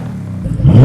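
Car engine with the stock exhaust revving up, a low steady idle rumble that swells into a louder, rising rev near the end of the short burst.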